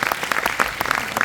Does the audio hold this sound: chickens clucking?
no